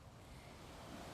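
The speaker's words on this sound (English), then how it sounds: "I am on the beach, so if you can hear the waves" Ocean surf washes on a beach at Gili Air island as a steady, even roar of breaking waves mixed with wind, with no one talking.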